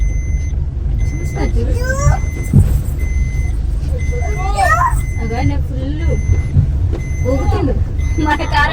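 Vehicles approach on a dusty road during a driving lesson, with a steady, close engine rumble, high repeating beeps, and people talking over the noise.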